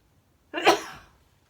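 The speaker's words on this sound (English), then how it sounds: "oh, I'm gonna sneeze." One sharp, close sneeze erupts after a moment of quiet, a sudden burst that trails off over about half a second.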